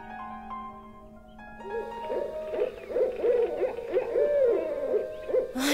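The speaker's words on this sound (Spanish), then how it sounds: "¿En serio, Tatú, le tienes miedo a los búhos?" Owl hooting in a repeated series of wavering calls, fairly close and clear, over a faint steady ambient background with a brief bright burst at the very end.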